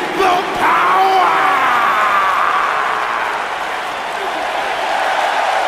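A large crowd in a WWE wrestling arena claps and cheers loudly, a broad roar of applause and yelling that swells early and holds steady throughout.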